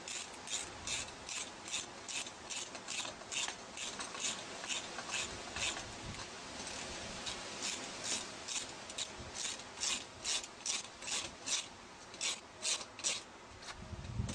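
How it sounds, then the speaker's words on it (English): A ratchet tightens a satellite dish bracket in a steady run of close, rhythmic rasping clicks, each stroke distinct, with no voices. "I'll use my ratchet here and I'll just tighten in this bracket."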